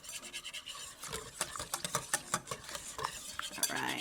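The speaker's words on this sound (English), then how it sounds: "I'm going to stir in a cup of sugar and a cup of brown sugar and a teaspoon of salt" A spoon scrapes and stirs through brookie batter in a bowl as a cup of white sugar, a cup of brown sugar and a teaspoon of salt go in, with soft rhythmic rasping and clinks close by and no talking.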